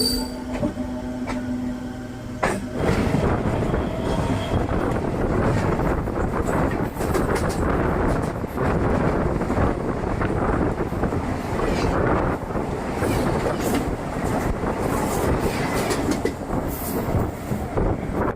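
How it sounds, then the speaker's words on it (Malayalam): The Venad Express, train 16302, rushes past near Angamaly station as a loud continuous rumble of wheels and carriages, with rattling clatter and wind buffeting the microphone throughout. "ട്രെയിൻ നമ്പർ 16302 തിരുവനന്തപുരം സെൻട്രലിൽ നിന്നും ഷൊർണൂർ ജംഗ്ഷനിലോട്ട് പോകുന്ന വേണാട് എക്സ്പ്രസ് ആണ് ഇപ്പോൾ കടന്നു പോയത്."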